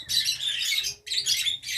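Several small caged aviary birds chirp and twitter busily up close, bright rapid calls in two bursts separated by a short pause.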